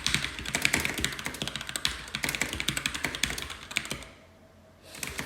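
Fast, dense typing on a computer keyboard, a rapid stream of close, crisp key taps for about four seconds, a brief pause, then a few more keystrokes.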